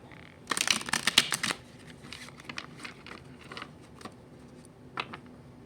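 Oracle cards being shuffled and split: a quick burst of riffling card flutter, followed by softer scattered card taps and slides, close and alone.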